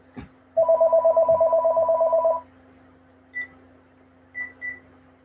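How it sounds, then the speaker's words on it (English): A cell phone rings during an indoor talk, a rapid run of pulsed electronic ringtone tones for about two seconds, then a few short isolated beeps, loud and close against a quiet room. "I forgot to turn my phone off and I apologize. And I'm not, let me see if I can stop that ring."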